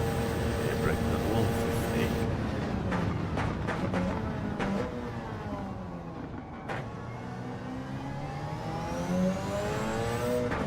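Race car engine from Gran Turismo 7 gameplay revs and shifts steadily throughout, with rising and falling pitch sweeps as it brakes and accelerates, while someone talks over it.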